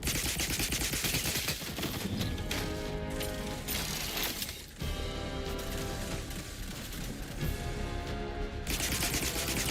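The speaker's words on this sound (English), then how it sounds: "What is still shooting at us?" Sustained rapid gunfire in the sci-fi game The Outer Worlds 2, a loud, dense automatic barrage that runs almost without pause, close and continuous, with no talking.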